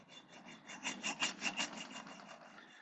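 Hand sanding with 300 grit sandpaper in a corner during a restoration, a steady rasping scrub with rhythmic back-and-forth strokes that swell mid-clip, close and moderately quiet with no talk.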